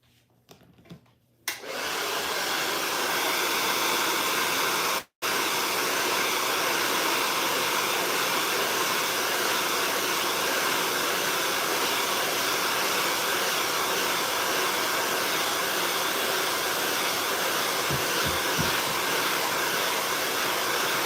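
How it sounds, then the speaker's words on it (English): A handheld hair dryer roars steadily at close range while blow-drying curly hair straight at home, a loud continuous whoosh that cuts out for a split second and then resumes. "That's the best way to blow dry your hair if your hair is curly and you're trying to get it straight at home."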